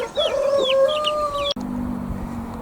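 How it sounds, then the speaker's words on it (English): A chicken in a netted pen gives a few close clucks and squawks, then a sharp knock cuts in and low, faint muttering from the flock follows. "That's also why we've got lots of other chicks in here"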